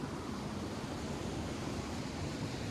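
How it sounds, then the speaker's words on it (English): A waterfall at a cold, remote place in Utuado, Puerto Rico, heard as a loud, continuous broadband rush of falling water with no breaks and no talking. "And the waterfall."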